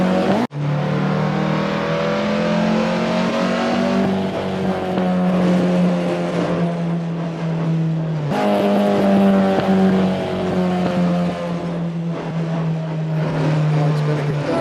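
A car engine in a video game drones steadily and loudly throughout. Its pitch rises and eases with revving, broken by two abrupt cuts, and voices may be faintly present underneath.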